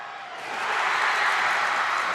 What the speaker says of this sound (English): So you can hear the BC crowd over here.